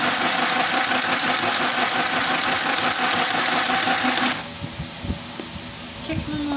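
A sewing machine runs steadily with a dense mechanical whir while stitching fabric, then stops abruptly partway through, leaving quieter handling sounds and a faint voice.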